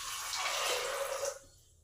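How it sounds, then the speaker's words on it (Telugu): Water streams steadily into a cooking pot for dried cowpeas, a continuous splashing pour that stops abruptly near the end, close and moderately loud with no talking. "ఇప్పుడు మనం కొంచెం నీళ్ళు పోసుకుందాం."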